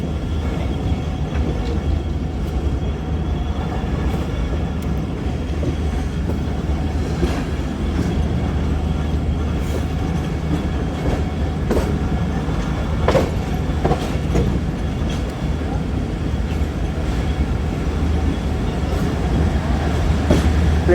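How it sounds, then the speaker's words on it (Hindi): The Awam Express passenger train rolls into Lala Musa Junction railway station, a loud, steady rumble of rail cars with clickety-clack wheel beats and faint squeals throughout, with some background voices. "14 डाउन अवाम एक्सप्रेस अप्रोच बना रही है लाला मूसा जंक्शन रेलवे स्टेशन पे।"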